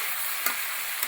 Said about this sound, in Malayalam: നമുക്ക് നന്നായിട്ടൊന്ന് ഇളക്കി കൊടുക്കാം